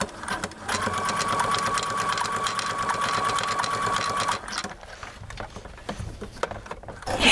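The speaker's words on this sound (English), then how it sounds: "put it under the presser foot, and I'm just going to stitch, and it's going to stitch those two lines" A Baby Lock serger stitches a swimsuit edge, its fast, even whirring running steadily for about four seconds before stopping, leaving quieter handling noise.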